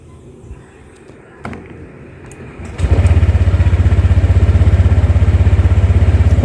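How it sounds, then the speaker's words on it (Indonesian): A Honda Vario 150 scooter engine starts with a brief starter crank, then catches and settles into a loud, steady, rapid idle that continues to the end, preceded by faint handling noises. "Kita hidupkan, kita tekan starternya."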